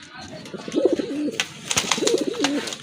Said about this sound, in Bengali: অনেক বড় সাইজের এক জোড়া বড় পায়রা কবুতর